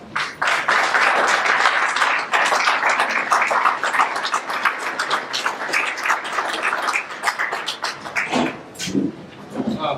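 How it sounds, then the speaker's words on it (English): A standing audience claps for a speaker at an evening event. Dense, continuous applause fills the full stretch and stays fairly close and loud, with no voices over it. "Ladies and gentlemen, let's stand and give a round of applause for Rick Ross."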